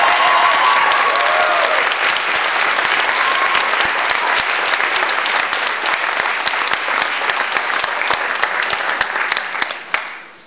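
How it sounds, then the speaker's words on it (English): Audience applause for Grandma Britton at a scholarship presentation, a loud, dense wash of clapping sustained for about ten seconds, with brief voices heard early on, before fading out at the end. "So how about a round of applause for Grandma?"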